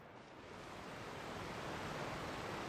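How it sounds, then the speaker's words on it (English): Ambient water in Genshin Impact washes steadily like soft surf, a quiet, even hiss that swells slightly and carries on without break or voices. "it's probably just the water sound effect"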